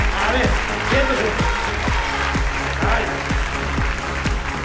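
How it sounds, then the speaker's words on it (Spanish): Studio audience applauding a guest on a Spanish talk show, dense steady clapping with a voice talking over it throughout. "Un fuerte aplauso para él."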